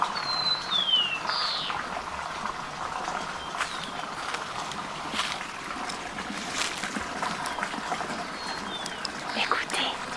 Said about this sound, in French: un petit cours d'eau et le gazouillis des oiseaux